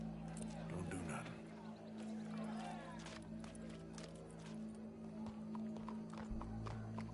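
Horse hooves clip-clopping in a video game, a steady run of hoof beats at moderate distance over a continuous low hum and game ambience.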